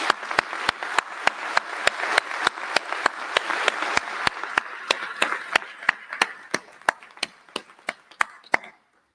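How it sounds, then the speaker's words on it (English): At an undergraduate diploma ceremony for a chemical and biomolecular engineering department, the audience gives parents and families a round of applause: sharp, evenly spaced claps ring over a bright wash of clapping that thins out and stops. "So I think we all should give a round of applause to those parents and families."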